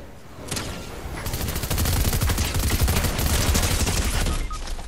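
Rapid SMG and rifle gunfire in a 2v2 online shooter match, dense overlapping bursts building into sustained automatic fire for several seconds, loud and close with no talk.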